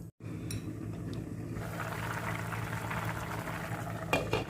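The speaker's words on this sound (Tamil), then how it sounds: "மூடி போட்டு வேக வச்சுக்கோங்க." Vegetables for soup simmer in a covered pot, giving a steady low bubbling hiss with a faint hum underneath. A soft clunk comes right at the start, and a few brief rattles follow, with no voices.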